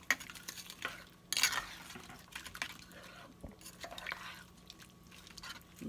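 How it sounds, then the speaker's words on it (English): Turkey wings being stirred in a crockpot with liquid, a spoon scraping and clinking against the pot in several short strokes, soft sloshing between, fairly close and moderately quiet. "And we'll just stir it around in there."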